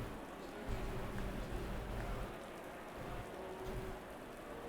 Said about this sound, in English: Rain is increasing, so it's a full wet track. It is coming down pretty hard